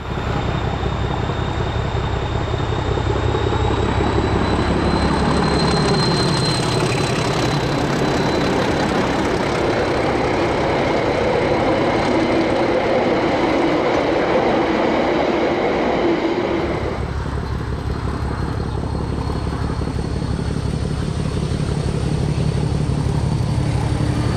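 Di 1102 and Dg 772 diesel locomotives haul a train along the Midland Line after leaving the main trunk at Rolleston, with a steady loud engine drone and rolling rumble throughout, shifting in tone partway through.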